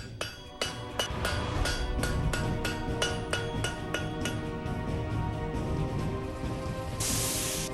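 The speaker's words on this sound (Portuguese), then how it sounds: "Bastões de ferro são primeiramente enrolados e depois martelados repetidas vezes" Rapid metallic hammer blows on heated iron bars ring out in an even rhythm, close and loud, followed by steady clanking of struck metal.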